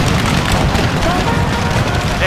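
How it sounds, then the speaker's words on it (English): A cannon shot in Napoleon Total War (American Civil War mod, Battle of Shiloh), heard as a heavy, continuous rumbling roar of artillery and battle noise throughout. "Solid cannon shot."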